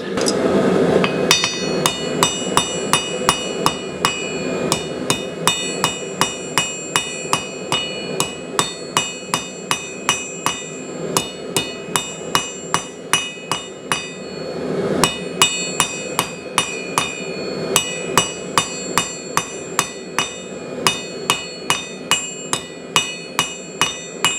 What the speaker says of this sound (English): I should be using a smaller hammer.